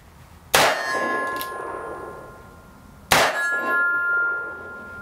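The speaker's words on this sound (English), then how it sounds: "So there's a steel target up there I haven't shot yet." A Cimarron 1875 Remington Outlaw revolver fires two shots at a steel target, each giving a sharp ringing clang that decays slowly, spaced about two and a half seconds apart, with no talking.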